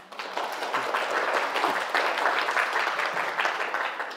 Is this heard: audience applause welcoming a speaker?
yes